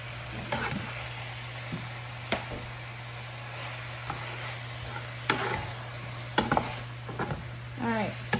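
Garlic frying in a hot pan for a tofu kung pao stir fry, a soft steady sizzle under a low hum, broken by scattered scrapes and knocks of stirring, close by with no talking.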